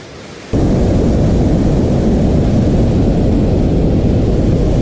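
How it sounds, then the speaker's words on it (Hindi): The Lamchar waterfall in the Usheri Valley of Upper Dir roars with a dense, continuous rush of falling water and rising spray, loud and close, steady throughout after a quieter opening moment. "आसपास पानी का शोर"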